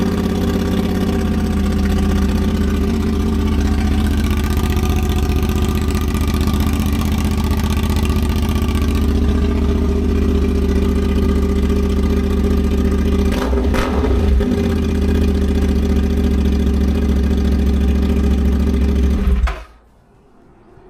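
A CFMOTO 450SS motorcycle engine idles with no exhaust fitted, a loud, raw, steady mechanical drone with a brief irregular flutter midway, running alone until it abruptly cuts off near the end.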